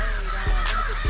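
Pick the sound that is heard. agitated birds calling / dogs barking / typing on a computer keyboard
agitated birds calling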